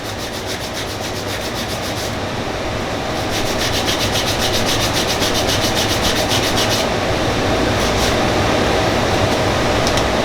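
Cedar wood pieces for a marble tic-tac-toe board are sanded by hand, a continuous close rasping rub that grows louder partway through, with no talking.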